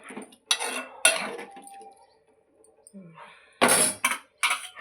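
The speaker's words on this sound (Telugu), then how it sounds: "ఇప్పుడు మూత పెడదాం" Metal lid being handled and set onto a pot of meal maker curry, several sharp clanks and clinks in bursts around a quiet pause, close and clear, with faint background noise and no talking.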